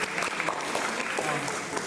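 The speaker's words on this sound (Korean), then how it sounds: "박수를 올려주세요." A Korean church congregation at a Christmas service in Berlin claps for the children, a brief, lively wash of hands clapping together with a faint murmur of voices underneath.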